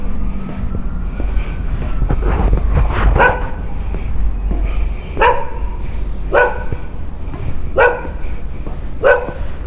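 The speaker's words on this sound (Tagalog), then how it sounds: "May aso." A dog barks several times at irregular intervals, fairly near, along an outdoor pathway in Canada in spring, over a constant low rumbling background noise.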